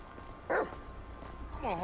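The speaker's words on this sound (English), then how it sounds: "Got a cool dog with him whose collar is green" Short bark from Chop, a dog with a green collar, in GTA 5, one sharp burst standing out over background game chatter and ambience, followed by a whining tone.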